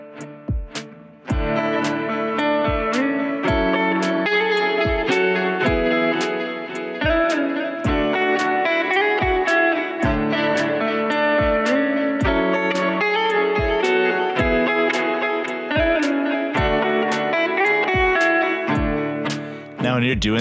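Electric rhythm guitar strums a steady chord progression with short melodic licks between the chords. The playing is close and evenly timed, with repeated sharp strums over about twenty seconds and no talking.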